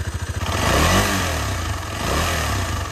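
A Royal Enfield GT650 motorcycle engine starts and idles roughly, sputtering and stumbling under light throttle. The uneven pulses are loud and close, with a brief blip as revs rise.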